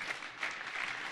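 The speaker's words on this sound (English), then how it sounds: "There, well, there's some applause there." A keynote audience applauds a browser database demo, a dense, steady wash of many hands clapping at moderate distance for a short stretch.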